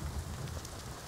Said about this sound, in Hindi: बहुत बारिश हो रहल बा